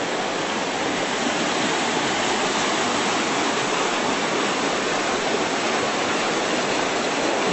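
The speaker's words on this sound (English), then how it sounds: "I don't know whether the creek will ever slow down this year." Fast-flowing creek in the White Mountains near a cabin, a steady, loud broadband rush of water continuing unbroken throughout, close and alone with no voices.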